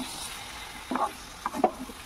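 Crushed garlic is stirred into a frying mutton curry with fried potatoes and tomato, heard as a few short, close scraping stirs over a faint, steady background hiss.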